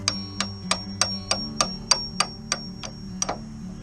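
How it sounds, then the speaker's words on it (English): An extractor tool pressing an old steel bushing out of a vehicle door hinge, heard as a steady series of about a dozen sharp metallic clicks at an even rhythm, close and moderately loud over a low hum. "put this little extractor in on the bottom of the hinge and pop the old one out"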